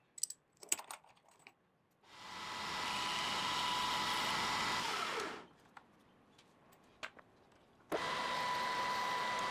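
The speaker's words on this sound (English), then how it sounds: "I'll start turning down the next pine dowels" A lathe turning pine dowels whirs in two sustained bursts of a few seconds each, with clicks and knocks of handling in between and no talking.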